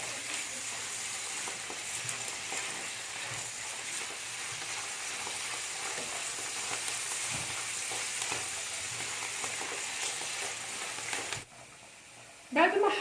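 Minced turkey and mushrooms fry in a pan, giving a steady, even sizzle with soft scraping as they are stirred, before a voice speaks briefly at the end.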